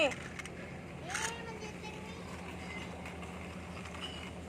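A small battery-powered toy train with trailing cars whirs and clicks steadily along its track, with a voice and an adult speaking over it.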